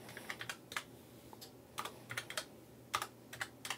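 Keys clacking on a computer keyboard during a backup server login, in short irregular bursts of taps with pauses between them, fairly close and clear, with no voices.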